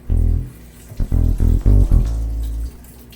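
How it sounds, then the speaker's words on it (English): Cold tap water runs over chickpeas being rinsed in a strainer, a splashing stream that starts, stops and restarts in several short bursts before a longer steady flow, close and fairly loud. "And now I'm just gonna run some cold water through it to kind of rinse it off"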